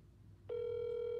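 A telephone ringback tone on a three-way call sounds as one steady, sustained electronic tone that switches on abruptly and holds at an even level over faint background hiss.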